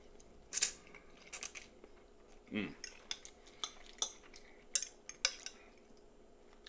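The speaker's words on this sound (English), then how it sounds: "Give that a little stir around and give that a try" A utensil stirs pasta tossed in syrup, giving faint, scattered clinks and scrapes against a dish, with one soft thud among the sharper taps and near silence between them.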